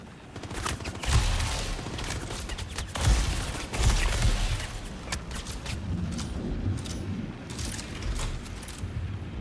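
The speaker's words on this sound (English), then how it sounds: "The guy's shooting through walls a bit." Video-game gunfire punching through walls, bursts of sharp shots and rattling impacts scattered over a continuous busy background, with several louder cracks standing out.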